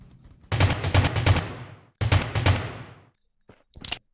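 Rapid gunfire in the mobile battle-royale game Rules of Survival: two loud bursts of repeated shots, each a quick string of close reports, followed by a brief sharp crack near the end.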